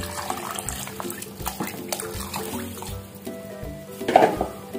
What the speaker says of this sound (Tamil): இதை நம்ம இந்த தண்ணி இதில் சேர்த்துக்கலாம்.